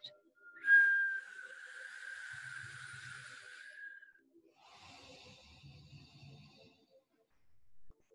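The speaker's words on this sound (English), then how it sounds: "Make that whistle count." A long, steady whistling exhale during a guided breathing exercise, loud and sustained for a few seconds, followed by a softer, breathier airy exhale with quiet low rumbling underneath.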